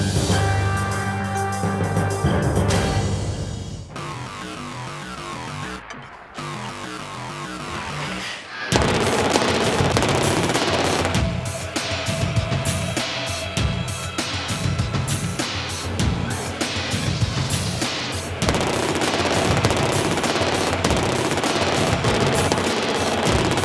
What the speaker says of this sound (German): Mantis, das neue Flugabwehrwaffensystem der Bundeswehr im scharfen Schuss.